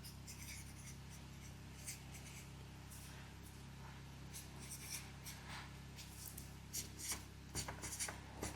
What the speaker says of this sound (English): take a moment now to write this down